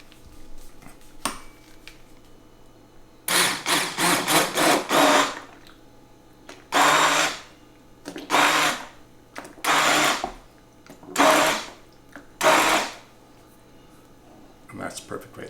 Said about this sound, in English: we're going to blitz our tomatoes. We have fire roasted tomatoes today